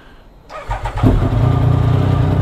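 A 2014 Triumph Speed Triple motorcycle with about 22,000 km on it starts up: a brief starter whir, then the engine catches and settles into a loud, steady close-up idle.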